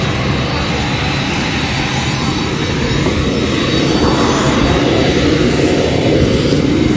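A parked airplane's engine runs loud and steady as a continuous jet-like roar close by, with voices faintly under the drone.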